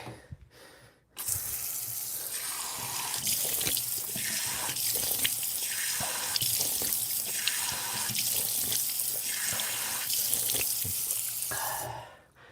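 A kitchen tap runs water into a sink in a steady, fairly close rush that lasts about eleven seconds, with the flow rising and falling slightly before the tap shuts off abruptly.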